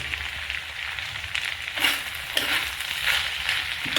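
Green peas fry in hot oil for aloo matar, a steady close-up sizzle with crackling spits and periodic scraping swells as they are stirred around the pan.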